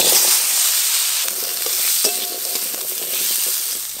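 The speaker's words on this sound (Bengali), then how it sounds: "আলুগুলোও ভালো করে ভাজা ভাজা করে নেব।" Potatoes fry in oil in a home kitchen, a close, continuous sizzle with the occasional scrape and clink of stirring.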